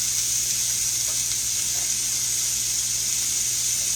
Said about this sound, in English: I've cut me up a half of an onion that I'm fixing to saute in this pan.